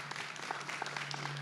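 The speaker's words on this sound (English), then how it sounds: "give yourselves a round of applause" Crowd applause at a 2023 Veterans Day ceremony, with steady, moderately distant clapping and scattered sharper claps over a low electrical hum.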